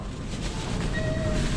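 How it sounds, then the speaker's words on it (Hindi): A train at Omsk railway station in Russia rumbles steadily nearby, with low rolling noise, a faint high squeal of wheels or brakes, and no talk. "तो मैं इस ट्रेन से आया था"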